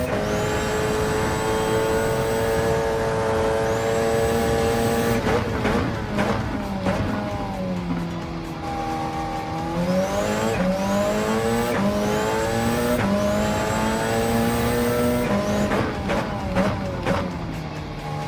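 Race cars in Gran Turismo 7 circle a multi-class race, Group 4 machines among them, their loud engines whining continuously as they rise and fall through gear shifts, with no talking.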